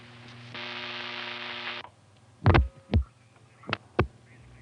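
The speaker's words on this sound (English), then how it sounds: "That was a 7A type announcement machine with its distinctive sound at the end." A 7A type announcement machine in a 1970s #5 Crossbar telephone exchange winds down with a steady mechanical hum, then gives several sharp, separate thumps and clunks, with no talk.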